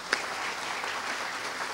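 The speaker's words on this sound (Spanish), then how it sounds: "Un aplauso para ellos" Brief applause from an auditorium audience at a university conference in Brasília, steady and moderately loud with a single sharper clap near the start.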